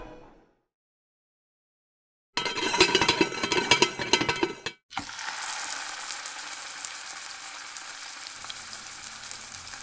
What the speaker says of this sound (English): while the ham is frying